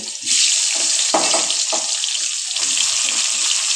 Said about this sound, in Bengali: এই দেখো তেলটা গরম হয়ে গেছে কালো জিরে ফোড়ন দিয়ে দিয়েছি এখন দিয়ে দিচ্ছি বেগুন